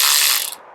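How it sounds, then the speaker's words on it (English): Ryobi 4V cordless 1/4-inch ratchet wrench turning 12mm bolts, heard as a close, bright motorized ratcheting whir that runs steadily and then cuts off and fades within under a second. "we're going to pop them onto the Cordless 4-volt lithium ratchet wrench, and this can do the hard work for us"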